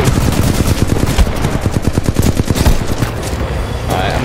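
Rapid automatic gunfire in the video game Titanfall 2, a loud, fast, continuous burst of shots that rattles for several seconds before tapering off.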